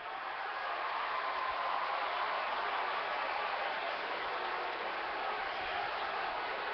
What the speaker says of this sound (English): Those of you who are cheering me right now